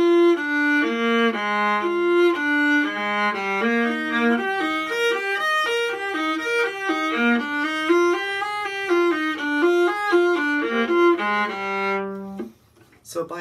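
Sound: viola playing opening of Zelter Viola Concerto

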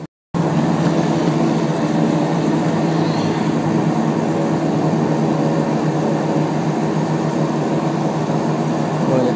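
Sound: Bearskin Airlines flight 506 airplane taking off

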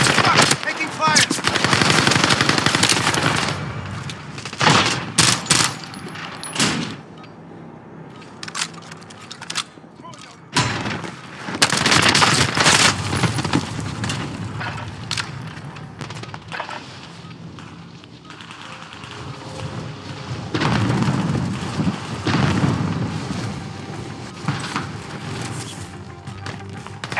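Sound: gunfire and explosions in a war video game

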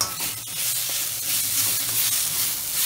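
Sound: aloo do pyaza sabzi frying in a pan

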